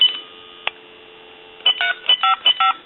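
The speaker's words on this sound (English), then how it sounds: "We'll dial a time and temp number and then hang up." Touch-tone dialing on a converted candlestick telephone: a steady dial tone hums, then a rapid series of six or so short, clear keypad beeps follows, close and distinct.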